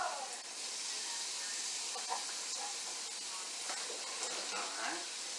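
Meat sears in a hot pan with a strong continuous hiss, a bright steady sizzle heard close up, with faint scraping and small pops scattered through it.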